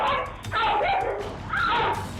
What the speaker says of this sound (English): Without warning, the pit bull snaps and tries to bite down